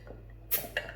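A bottle of homemade Mangrove Jack's Craft Series apple cider opens with a quiet, sharp pop followed by a brief hiss, heard close up in a calm room.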